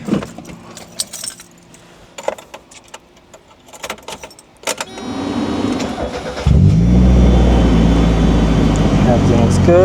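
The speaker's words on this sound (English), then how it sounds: "I'm gonna go turn the car back on one more time, let it sit" Keys jangle and click close by before a car engine cranks and catches, then settles into a steady, loud idle that runs on without a break.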